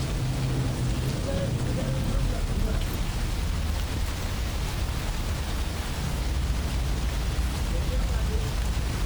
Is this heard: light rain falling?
yes